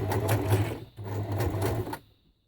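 A sewing machine stitches scrap fabric rope for raggedy flowers, the fabric wrapped while sewing: two close, steady bursts of stitching broken by a short pause, then the motor stops.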